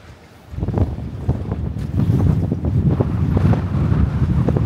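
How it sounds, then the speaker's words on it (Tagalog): Strong wind buffets the microphone at an open fishing spot in Melbourne, a steady low roar with gusting swells and no voices. "Mahangin lang talaga dito, no?"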